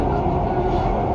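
A Dubai Metro train rolls along with a steady, close interior rumble and hum heard from inside the carriage, with no voices.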